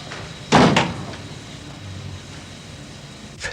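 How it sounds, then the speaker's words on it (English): A door opens with a sharp, close thump and rattle near the start, followed by quiet room tone and a faint later knock. "Randolph, open the door"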